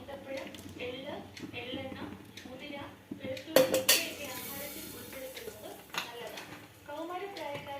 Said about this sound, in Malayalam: ബാലൻസ് ചെയ്യുന്നതിന് വേണ്ടി അല്പം ശർക്കര നീരും ചേർത്ത് നല്ലതുപോലെ ഇളക്കുക